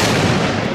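A Cobra firecracker bang fills the whole short moment as one loud, sharp blast that decays quickly, with no voices.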